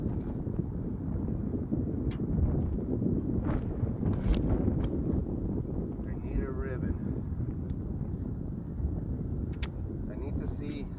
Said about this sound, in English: the winds are drifting me off